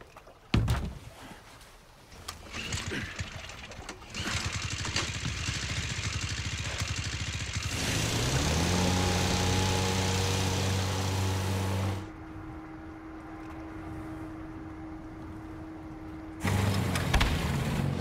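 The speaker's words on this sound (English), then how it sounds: "Engine blew." A boat engine in the video game Resident Evil 4 Remake drones steadily with a strong, humming pitch that shifts in tone partway through, then cuts to a thinner whine before the engine noise surges back at the end.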